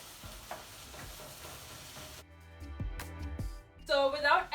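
Rice is stirred into a chicken and vegetable stir fry in a pan, with soft scraping and clattering strokes followed by a brief sizzle. The sounds are quiet and close.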